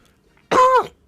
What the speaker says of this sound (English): Are you coughing in solidarity?